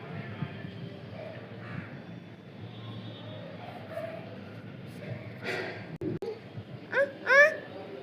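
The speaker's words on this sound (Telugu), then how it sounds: "పిట్టి మళ్ళీ వచ్చింది." A bird calls nearby with two or three short, sharp cries near the end. Before the calls there is a low, continuous murmur of background babble.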